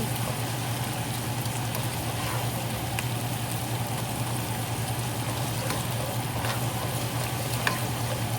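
Pork ribs and tomato paste sautéing in a hot pan give a steady, close sizzle and crackle with occasional stirring clinks, continuous and unbroken, no voices.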